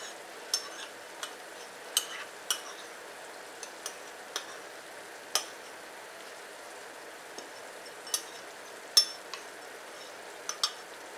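Miso paste is mashed and stirred into soup in a pot, giving soft scattered clicks and taps of a utensil at an irregular pace over a low steady background hiss.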